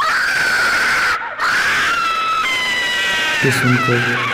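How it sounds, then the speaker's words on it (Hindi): A woman's ghostly screams in a horror film, long high-pitched wailing cries that rise and fall, briefly break off, then continue piercingly over an eerie tonal drone. "लेकिन मंदाकिनी की चीखें सुनकर"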